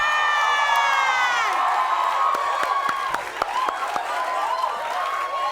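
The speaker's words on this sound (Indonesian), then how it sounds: "Kita kasih tepuk tangan buat Jian Malabar." A television studio audience claps and cheers as a held musical tone fades out, with a lively crowd clatter and a few sharp, distinct claps standing out near the end.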